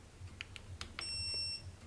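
A Viomi stainless smart kettle gives a single short, high electronic beep after a few faint clicks, quiet and close in an otherwise still room.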